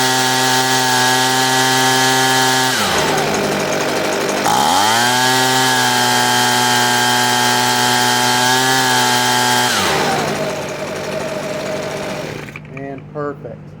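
Husqvarna 125BV leaf blower engine screaming loud and close at full throttle, dipping briefly twice as revs drop and recover, then winding down near the end.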